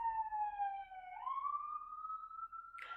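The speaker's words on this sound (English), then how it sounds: "The sirens have been going a lot more." A siren wails outside in Las Vegas, heard at a distance and fairly faint, its tone sliding down and then rising again in a single long sweep before a brief burst at the end.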